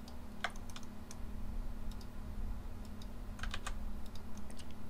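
Computer mouse clicks while working in Blender, light dry ticks scattered in small clusters over a steady background hum, close and fairly quiet, with no talk.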